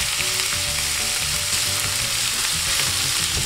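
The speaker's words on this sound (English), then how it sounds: "we're gonna brown this mixture" Sweet Italian sausage mixture browning in a pan, a steady dense sizzle with soft scraping stirs throughout, close and even, no talking.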